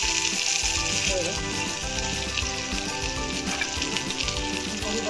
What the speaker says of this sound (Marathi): कढीपत्ता असा थोडंसं फ्राय करून घालायचं